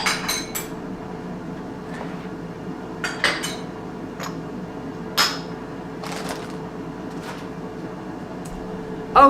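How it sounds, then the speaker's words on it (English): Dishes and cutlery cleared off a kitchen counter, scattered sharp clinks and clatters at irregular intervals with quiet gaps between them, close by and with no talking. "Let me get rid of some of these dishes off camera to ease up some room."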